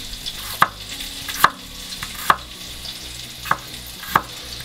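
Garlic being finely chopped with a knife on a board: five sharp, evenly spaced cuts about a second apart, close and crisp over a low kitchen background hum.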